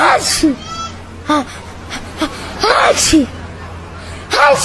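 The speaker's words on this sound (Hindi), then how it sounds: "तेरी छींक हमेशा चालू रहती है क्या?" Several sharp sneezes burst out one after another amid a busy Patna crowd, each a short explosive blast, with voices talking in between.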